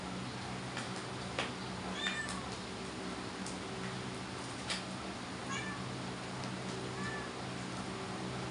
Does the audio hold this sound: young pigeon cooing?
no